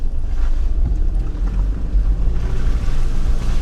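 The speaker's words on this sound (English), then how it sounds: "Going through the mud, going through the water" A 4WD vehicle drives through mud and water on a forest track, its low engine rumble mixed with sloshing, splashing water and wind buffeting close to the microphone, with no talk.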